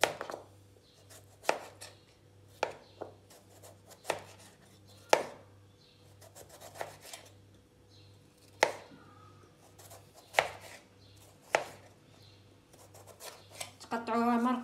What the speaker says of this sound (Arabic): دابا غندوز نقطع البطاطا